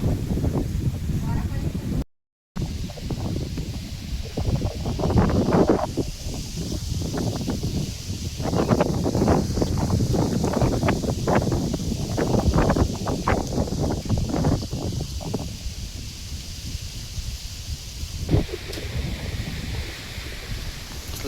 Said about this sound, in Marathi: कसला वारा आहे बघा